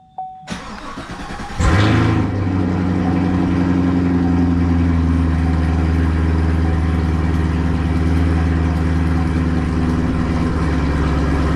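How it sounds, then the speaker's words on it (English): A 2017 Chevrolet Camaro engine cranks briefly, catches with a loud flare, then settles into a steady, rumbling idle heard up close and alone. "Alright, so I'm just gonna start the car up,"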